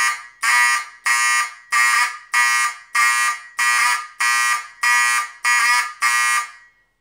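A Simplex 2001 fire alarm sounding in 90 bpm march time, eleven loud, evenly spaced buzzing horn blasts with short gaps between them, close and alone.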